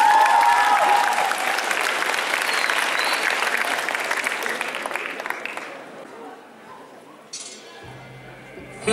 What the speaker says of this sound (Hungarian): Fogadjátok őket hatalmas tapstornádóval.